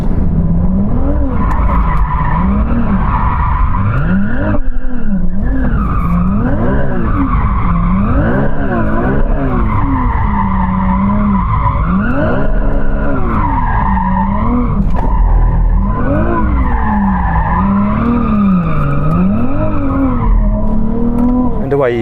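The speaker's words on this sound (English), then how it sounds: "we get to warm up our tyres by doing some donuts" Rear-wheel-drive race car doing donuts with its tyres skidding, producing loud continuous squealing in wavering, swooping tones that rise and fall with each rotation alongside the engine's roar, sustained for about twenty seconds.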